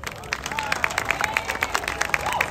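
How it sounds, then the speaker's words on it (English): Scattered, lively audience applause and a few cheers rise from a crowd at a community cultural event in San Diego, with some talking and crowd chatter mixed into the clapping. "So another round of applause for our students."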